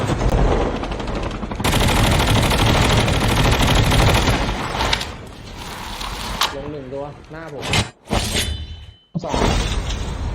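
Rapid automatic gunfire crackles loudly in the battle royale mode of Call of Duty Mobile, sustained bursts that drop out briefly midway and near the end before firing resumes.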